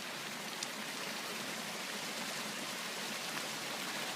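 Steady rush of natural hot spring water flowing outdoors near a waterfall in Southern California, a continuous broadband splashing and trickling texture at even loudness with no talk.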